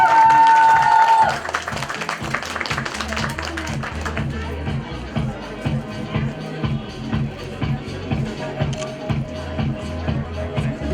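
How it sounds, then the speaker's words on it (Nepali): Audience in a beauty parlour training centre event hall gives a long burst of applause for Sabina Shrestha, dense clapping loud at first, then settling into steadier, lighter clapping with crowd murmur beneath. "सबिना श्रेष्ठजीको लागि एक जोरदार ताली बजाएर सम्मान गरौँ।"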